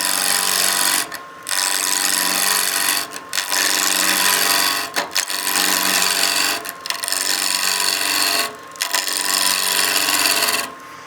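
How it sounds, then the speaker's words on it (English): A wood lathe takes peel cuts off the corners of a square wood blank for a German smoker, a loud scraping, chattering roar in long bursts separated by brief pauses, close by and without talk. "I'm going to do just some peel cuts here to get the corners off."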